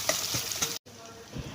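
Ginger-garlic paste and hot spice mix fry in hot oil with a close, steady sizzle and a few stirring knocks, cut by a brief silent break.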